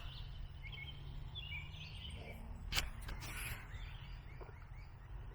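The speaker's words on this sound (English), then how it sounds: "Surely you can hear all the woodpeckers, red bellies, bleating back and forth and pecking." Red-bellied woodpeckers trade faint, scattered calls in the woods, with a sharp knock or peck partway through over a low, steady background rumble.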